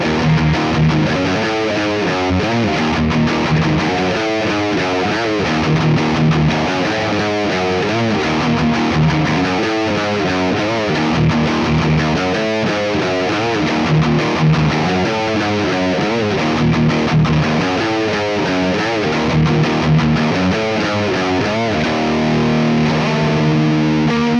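Distorted electric guitar riff in a modern thrash-metal style, played continuously and loud with chugging low notes and busy rhythmic phrasing, heard alone without talk.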